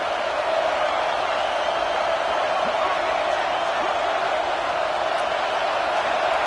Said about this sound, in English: Buckeye crowd alive on 3rd down.